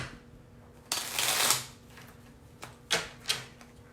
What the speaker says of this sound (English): Let me give this one little shuffle.